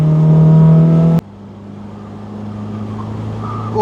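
A classic MGB roars at speed around the Castle Combe race track, its loud engine drone cutting off abruptly as the throttle lifts, then settling into a lower rumble that gradually builds again.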